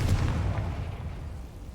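Confringo blasting curse in Hogwarts Legacy: a single deep, muffled explosion with a heavy low rumble that quickly fades away.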